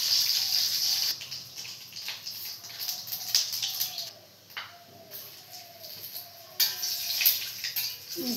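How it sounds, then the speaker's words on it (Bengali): Cumin seeds and bay leaves hit hot oil and sizzle close by in crackling bursts that rise and fade, with light clinks in between and no voices. "জিরা আর তেজপাতা সম্বার দিয়ে দিলাম।"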